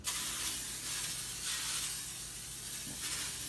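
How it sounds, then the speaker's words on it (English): Cooking oil spray from a store-bought can is misted onto a baking pan in several close hissing bursts of about a second each, separated by short pauses, with no talking. "oil down the pan with this granola oil spray that we got from the store"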